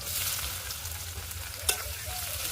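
Onion frying in oil with crushed garlic, a steady close sizzle with light stirring and one sharp clink, with no talk.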